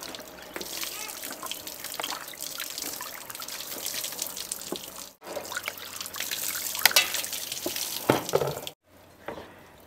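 Tap water runs and trickles while a huge fish is rinsed and cleaned in a Thai home kitchen, steady splashing with a few sharper drips and clatters, pausing briefly twice.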